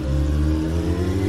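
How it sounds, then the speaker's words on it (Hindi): A motorbike engine used as a story sound effect, with a steady, close, loud mid-pitched hum as the bike speeds up, and no other sounds. "नील ने गाड़ी का स्पीड बढ़ाया"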